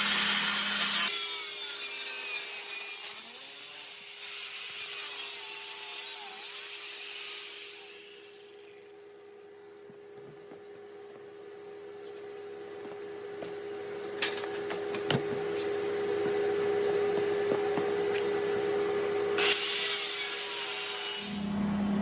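A handsaw cuts at an angle through a tube of an old mountain bike frame, giving up-close rhythmic rasping strokes that fade into quieter scraping, with a steady hum underneath.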